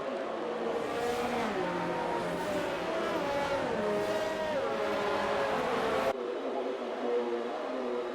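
GP2 race cars circling at reduced pace behind a safety car at the Spanish Grand Prix, a steady droning engine sound with shifting pitch that holds throughout and cuts lower near the end.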